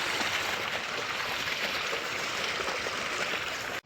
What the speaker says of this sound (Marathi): हे बघा ही मोटर आहे इथून पाणी येतं